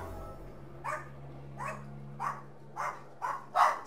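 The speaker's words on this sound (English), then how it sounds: "Sorry that they're barking, guys." Dogs barking in a home, six evenly spaced single barks, moderately close and muffled, over a low steady hum with no talking.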